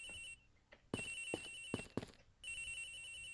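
A telephone rings in the Ace Attorney Investigations: Miles Edgeworth game, shrill repeating bursts with short gaps and low knocks in between, no voices over it.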